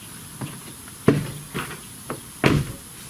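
The door lock of a 2015 Chevy Camaro is picked, giving about five sharp, close mechanical clicks and clunks spaced irregularly against a quiet background, with no talking.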